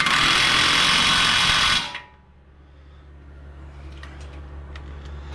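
Power tool running on a bolt during brake and tie rod work on a 2015 Ford F150, a loud steady whir for about two seconds that stops abruptly, then a quiet background hum with faint clicks.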